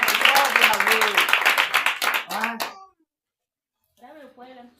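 Congregation clapping and applauding in a church, dense and lively over a preacher's voice for nearly three seconds, then quiet, with speech resuming briefly at the end.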